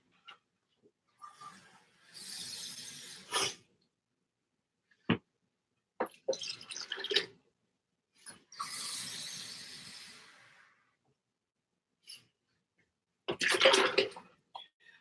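Two cups of water are poured for vegan meal prep in a few separate splashing bursts, each lasting a second or two, in an otherwise quiet kitchen.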